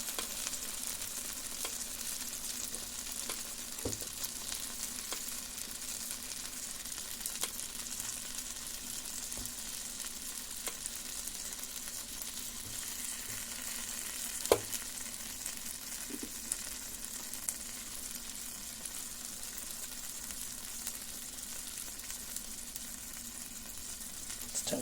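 Bacon sizzles steadily in olive oil, a constant crackling hiss with scattered pops and faint clicks over nearly twenty-five seconds, with no talking.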